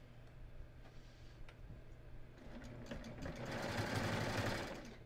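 A sewing machine with twin needles runs along a skort hem, starting as a faint, quiet ticking and building into a louder, steady mechanical whir near the end.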